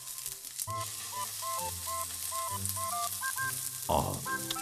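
Beef sizzles steadily on a grill at an all-you-can-eat beef restaurant, a constant crackling hiss, with light tonal music playing over it.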